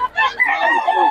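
A rooster at a chicken market crows once, loud and close, in a single harmonic cock-a-doodle call that rises and holds for about a second.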